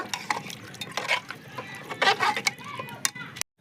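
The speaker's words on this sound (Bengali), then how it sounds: "গামলাটা ধুয়ে সামান্য অল্প একটু জল দিয়ে দিচ্ছি ভালো করে মিক্স করে নেব" Marinated chicken being mixed with a little water in a bowl, giving wet squelches and light knocks against the bowl, with a voice speaking over the mixing.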